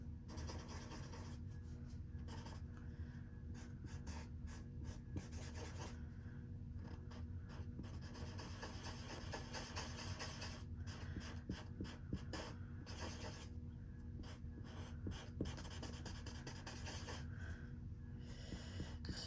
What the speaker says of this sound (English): You guys want to see how I color with the chisel side?